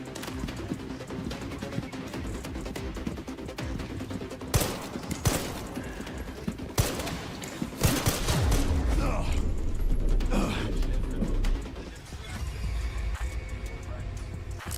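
Gunfire in a video game, a scattered run of sharp shots and bursts with a heavy rumbling stretch midway, mixed with mechanical clatter, and a voice talking over it.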